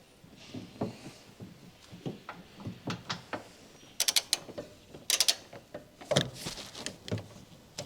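Bolt being loosened on the rear camber toe arm of a 2021 Honda Civic, giving a series of close, sharp creaking and ratcheting mechanical clicks in irregular bursts, with no talking.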